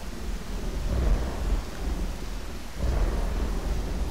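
Thunder from a lightning strike in a video game level rumbles as a loud, dense roar mixed with rain-like hiss, swelling in two waves with no talking over it.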